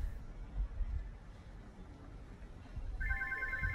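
A telephone rings near the end with a short burst of electronic trilling tones, following a stretch of low background noise; no one speaks over it.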